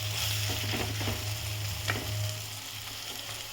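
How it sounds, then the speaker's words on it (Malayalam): Onions sauté for a Kerala egg roast, a steady close sizzle with a few soft stirring scrapes and no voices, easing slightly toward the end. "സവാള നന്നായിട്ടൊന്ന് മൂപ്പിച്ചെടുത്താലേ ഇതിൻ്റെ ശരിക്കും നല്ലൊരു ടേസ്റ്റ് കിട്ടുള്ളൂ. നന്നായിട്ടൊന്ന് വഴറ്റി എടുക്കാം"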